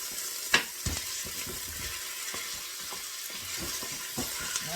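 Frozen food searing in a hot pan with chorizo nearby, a steady bright sizzle throughout with a few sharp crackles and pops, close and loud, no voices.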